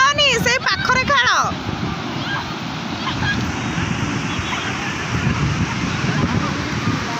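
Strong ocean waves crash and roar at a beach, a loud continuous surf wash after a brief burst of people's voices at the start.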